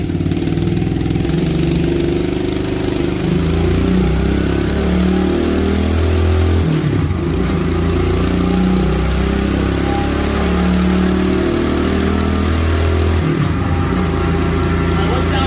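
Kawasaki KLX 110 motorcycle engine running on a dyno rollers, a loud steady mid-pitched drone with slight rises and dips in revs throughout, close and continuous, with people talking over it.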